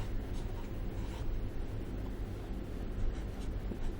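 Marker or chalk writing a math limit equation on a board, a steady scratchy stroking that runs continuously under a low room rumble, close and moderately loud.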